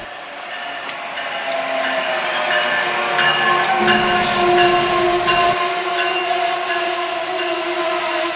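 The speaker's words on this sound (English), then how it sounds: "this is Keystone Service Train number 650, pulled by number 914. AEM-7 number 914." A Keystone Service passenger train pulled by an AEM-7 electric locomotive rolls steadily past nearby, a continuous roar of wheels and motors with sharp rail clicks and a faint high squeal, no voices.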